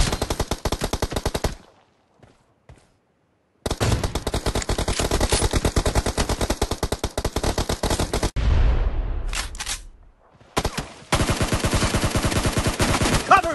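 Rapid automatic gunfire in the PUBG Mobile team deathmatch, loud close bursts of machine-gun shots with brief pauses, one deep booming report trailing off midway, then more fast bursts resuming.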